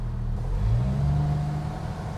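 A 1997 Jeep Wrangler TJ engine revs up from idle to about 1500 RPM, its pitch climbing smoothly and then holding at a higher steady drone, heard close by without talk.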